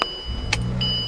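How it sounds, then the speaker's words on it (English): A 2012 Bentley Continental GT starts up with a quick crank burst that settles into a smooth, low idle rumble, all within about a second. "Engine starts up beautifully."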